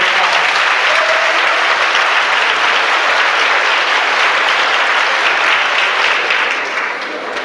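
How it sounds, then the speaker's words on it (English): A large audience at a high school honors night claps steadily and loudly in a dense, continuous wash of applause that holds for several seconds before tapering slightly at the end. "let's give her a round of applause"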